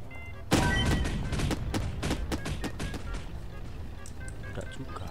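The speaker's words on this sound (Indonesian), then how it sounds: "Lemparin kembang api." Thrown fireworks go off in the video game Bad Guys at School: a sudden loud blast followed by a rapid string of crackling pops and thuds, steady and dense over a low background rumble.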